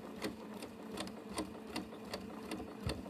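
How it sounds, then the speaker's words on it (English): A sewing machine stitches through the thick part of a large tote bag, giving a rhythmic run of sharp needle thumps about three per second, close and alone. "I'm stitching over, making it look like it's meant to be there."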